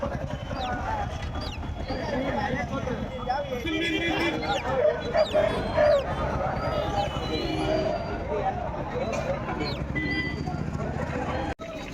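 Roosters at a busy Tamil Nadu poultry market, clucking and calling amid a dense crowd din with constant nearby talk and bargaining voices, plus scattered clip-clop-like knocks throughout.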